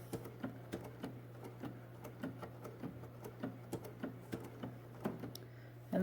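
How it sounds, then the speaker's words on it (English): A sewing machine with a BERNINA foot 23 stitches steadily along the edge of vintage linen fabric, an even rapid ticking over a low motor hum, close and alone. "So now as I'm sewing, there is no bumping or pushing at all."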